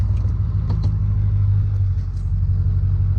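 A big lifted truck engine idles while warming up, a deep, steady rumble close by, a few faint clicks rising over the constant low drone.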